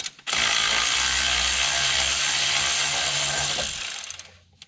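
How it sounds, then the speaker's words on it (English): A ratchet loosens a bolt during turbo removal on a Porsche 911 Turbo 997.2, giving about four seconds of loud, rapid, steady clicking that tapers off at the end, with no talking. "I'm about to take this bolt off, and we're going to take the turbo off"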